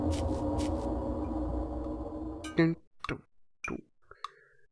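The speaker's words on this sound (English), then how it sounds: "that's the clock noise though" Ticking clock sound effect from the Newgrounds game FAINT: a few sharp, evenly spaced ticks that follow a dense burst of game noise.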